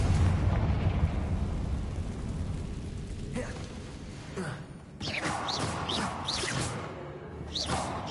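Confringo fire spell cast in Hogwarts Legacy, a rumbling explosive burst that swells across several seconds, followed by crackling debris and sharp whooshing bursts against a continuous low roar.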